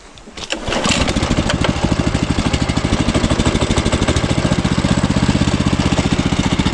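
A FORTE MKB-70 motor cultivator with a 200 cc engine starts up and settles into a steady, loud, rapidly pulsing run nearby, with no one talking.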